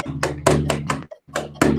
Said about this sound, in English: A reel sounds like this on the drum,